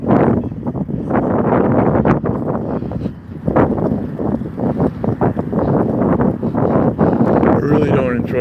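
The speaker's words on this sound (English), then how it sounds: "now the wind's coming this way" Strong wind buffets the microphone of a bicycle rider on a morning ride through downtown Las Vegas, a loud, rough, gusting roar that rises and dips across the whole stretch.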